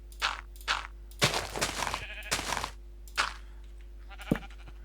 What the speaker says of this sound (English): we'll put our sheep in there